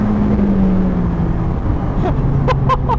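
A McLaren 750S in third gear around 3000 rpm under light throttle gives a loud, steady engine drone inside the cabin, its pitch easing slightly, with a few brief higher squeaks near the end.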